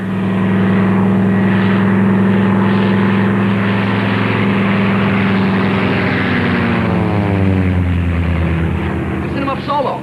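A propeller airplane engine roars loudly and steadily, rising in pitch as the plane takes off for a solo flight. The droning hum fills the whole clip, with a voice heard faintly beneath it.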